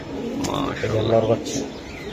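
Pigeons at a busy pigeon market, where Budapest, Giribaz and racer birds are sold, give soft nearby coos and chirps over people talking.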